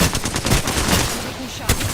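Rapid bursts of video-game gunfire crackle through a busy mix, dense repeated shots with one sharper report near the end, with light background chatter under it.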